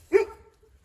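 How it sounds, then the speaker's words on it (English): A single sharp dog bark close by, rising quickly and trailing off into a brief whine, in a home garage during a clutch master cylinder job on a 2014 Opel Corsa D 1.4. "That's my dog again."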